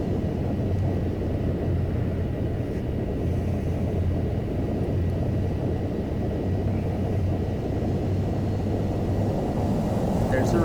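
A Boeing 737 landing at Seattle in a flight simulator game, with a steady, loud engine and airflow rumble that stays unbroken throughout.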